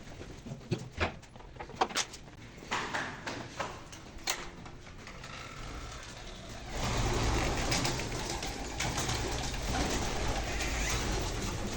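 Pigeons coo in a loft in a series of soft, close calls, and these give way to a louder rumbling background like passing traffic in the later part.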